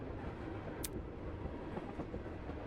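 A video game train rolls along through mountain scenery, giving a steady, dense rumble of wheels and carriage noise, with one brief high squeal partway through.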